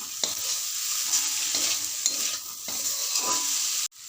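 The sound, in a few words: potato and bitter gourd with onion frying in a pan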